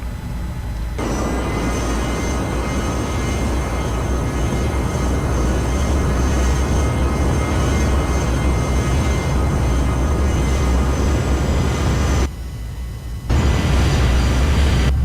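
Aircraft engine in the Air Hauler flight game, powering up to taxi down the runway: a loud, steady roaring drone that sustains evenly, drops out briefly near the end, then resumes at full strength.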